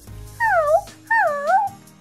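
A person's voice imitates a dog barking, in a Toca Boca Life World game story, with two drawn-out, whining yelps separated by a short pause.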